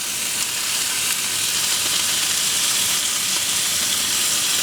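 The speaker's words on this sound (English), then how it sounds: "I'm gonna actually flip up the steaks." Thin steaks sizzling in a hot pan right after being flipped, a loud, even, continuous hiss and crackle of frying close to the listener, with no talking over it.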